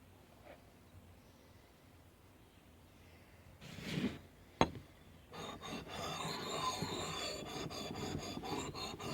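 An axe being sharpened with a scythe stone and a Makita sharpening stone: after a quiet start and a couple of knocks, a close, steady rasping scrape of stone on steel repeats in quick strokes, with no one speaking.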